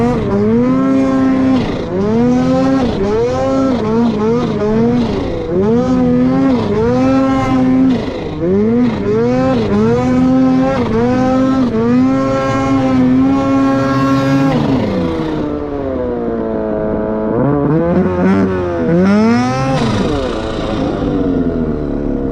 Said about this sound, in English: a quick little video that demonstrates how responsive this turbo is and that initial tip-in lag